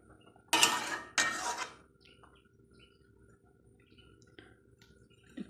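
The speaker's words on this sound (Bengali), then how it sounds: "ঢাকনা দিয়ে দেবো" A metal lid set onto a cooking pot, two quick clattering clanks close together near the start, followed by quiet kitchen background.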